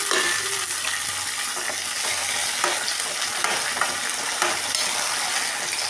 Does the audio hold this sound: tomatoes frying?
yes